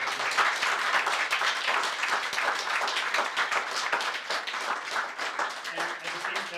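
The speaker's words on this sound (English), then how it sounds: "can we all have a big round of applause?" Audience applause at the close of an annual lecture by a Tibetan Buddhist teacher in London: dense, steady clapping from a large crowd, sustained and fairly loud throughout with no break.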